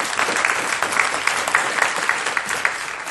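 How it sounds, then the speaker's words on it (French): Steady applause from an audience at a French seminar on crowdfunding investment, dense and continuous with scattered claps standing out from the wash. "Nous pouvons nous applaudir."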